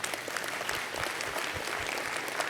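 A conference audience applauds steadily, a dense wash of clapping hands that stays even throughout with no voices standing out.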